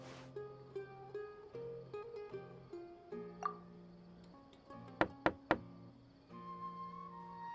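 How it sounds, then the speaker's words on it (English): Three sharp knocks on a door in the video game Genshin Impact, heard in a quick even run over soft background music, loud and close. "Let's try knocking."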